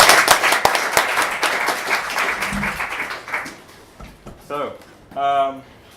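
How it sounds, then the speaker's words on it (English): An audience at a startup meetup gives a burst of applause that is loud at first, then thins out and fades. Speech and cheering rise over the tail end. "can everyone give a round of applause for Tom and Adioso?"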